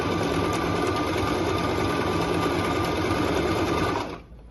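A Singer Promise sewing machine runs an overlock stitch on cloth with a continuous, fast mechanical whir, loud and close, before stopping abruptly at the end.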